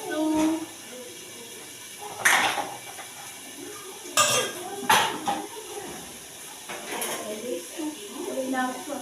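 Dirty pots and dishes are set aside with several sharp clanks and metallic knocks, spread irregularly across a kitchen scene while a person talks throughout.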